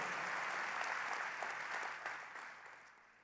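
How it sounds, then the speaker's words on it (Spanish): Quiet, distant applause from a church congregation during a sermon, a soft steady patter of clapping that gradually tapers off. "merece un fuerte aplauso nuestro increíble Salvador"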